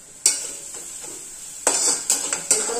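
Spices and coriander being sautéed in a pan for Maharashtrian mugachi bhaji, with a continuous sizzle and several sharp scrapes and clinks of a spoon against the pan, loud and close, with no talking.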